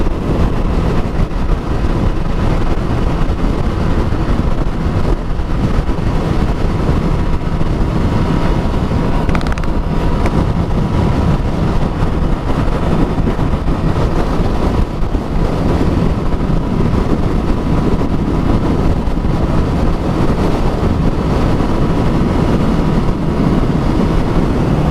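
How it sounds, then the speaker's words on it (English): Strong headwind roars over the microphone during a ride on a Triumph Street Triple 675R motorcycle in the Pacific Northwest, a loud, constant rushing buffet that fills the whole stretch without a break and with no speech. "It's way windier up here."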